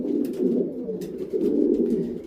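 Racing pigeon yearling cocks coo steadily together inside a loft, a continuous near chorus of low burbling calls with a few faint higher chirps mixed in.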